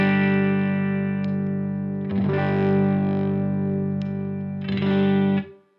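A sustained, distorted electric guitar chord rings out, switching between a cleaner and a more saturated tone as a Keyztone Rekoil pickup pedal is toggled, with a pedal click and a few short strums.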